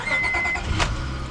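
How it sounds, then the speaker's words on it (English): A 2006 Honda Accord V6 with a manual gearbox starts up, a quick crank followed by a loud surge as the engine catches, heard close and without voices. "the V6 starts up very quickly, and it makes a very nice sound at startup"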